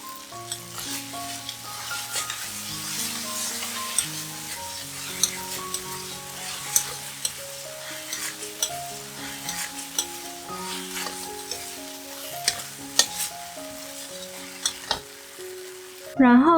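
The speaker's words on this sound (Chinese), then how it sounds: "再加入番茄酱、辣椒酱，炒均匀。" Vegetarian shredded meat stir-frying in a pan with ketchup and chili sauce, a steady close sizzle and hiss throughout, with faint scrapes of the stirring utensil and soft background music underneath.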